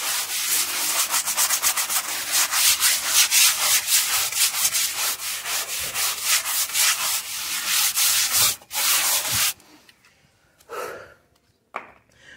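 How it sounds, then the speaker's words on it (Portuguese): A brush scrubs the front floor of a house with cleaning product in drizzly weather, producing steady rhythmic back-and-forth rubbing strokes up close, then stopping, followed by a few faint scattered sounds. "vou esfregar e depois lavar"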